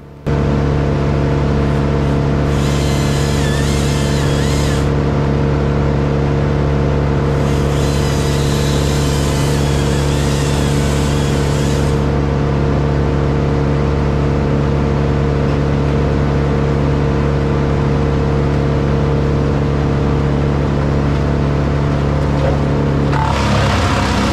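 A wood chipper runs steadily nearby, its engine drone holding constant and loud while bursts of hissy grinding come through as material is fed in, with no talk over it.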